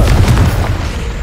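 A Confringo blasting spell detonates in Hogwarts Legacy, a loud, close, booming explosion that rumbles continuously through the whole moment with a heavy low-end roar and no voices over it.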